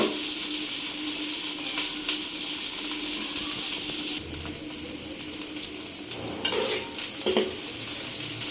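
Okra fries over a high flame in a pan, giving a steady, close hiss of sizzling oil, with a few stirring scrapes toward the end.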